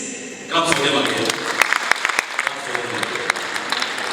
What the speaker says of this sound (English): Please clap for them again.